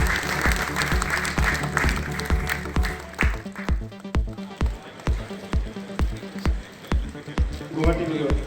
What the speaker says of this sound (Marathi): जोरात टाळ्या होते त्यांच्यासाठी.